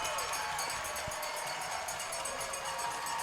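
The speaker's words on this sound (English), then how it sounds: "Listen to that crowd. They're loving it." Roaring crowd at a women's ice hockey game between Finland and Canada, a steady dense wash of cheering and noise filling the arena with no pause.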